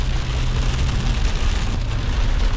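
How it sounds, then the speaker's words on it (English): Steady, dense patter of rain drumming on a car, continuous and fairly loud with no pauses. "It is still raining."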